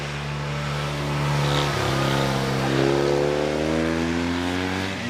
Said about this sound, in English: Lee Carter in the Fiat 695 SS Abarth on his way up the hill.